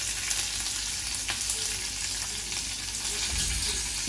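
Mustard seeds, hing, red chillies and curry leaves sizzling in hot oil for South Indian sambar: a dense, loud, continuous crackling sizzle that holds steady throughout, with a faint clink near the end.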